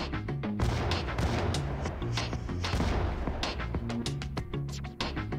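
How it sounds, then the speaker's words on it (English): Grenades detonate in GTA: Chinatown Wars, a string of thumping blasts and crashes amid gunfire, loud and close throughout. "Oh fuck, grenades!"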